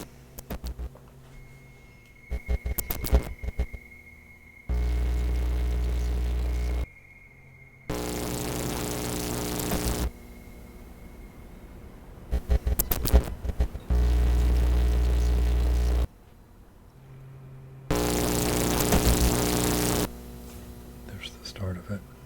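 Experimental electronic drone music: hissing static bursts alternate with blocks of low, full-throated droning tone, switching abruptly on and off across the passage with a thin high sustained pitch running underneath.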